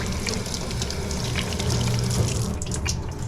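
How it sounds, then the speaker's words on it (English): Tap water runs steadily into a kitchen sink while dishes are rinsed, a continuous rushing splash with brief clinks and drips layered over it, close and fairly loud throughout. "Rinse it all off."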